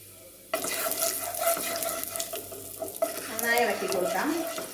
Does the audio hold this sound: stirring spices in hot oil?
yes